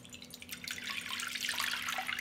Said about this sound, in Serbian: Sipaću u činiju 200 ml mlake vode.